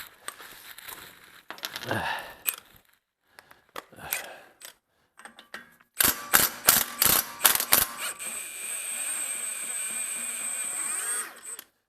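A tool clicks and whirs against a transmission axle nut on a 2002-06 Toyota Camry V6, fitted with a 30 mm 12-point socket to break its torque. Loud bursts of rapid hammering are followed by a sustained mechanical whine.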